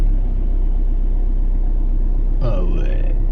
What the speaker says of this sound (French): Encore dans la voiture, c'est un vlog voiture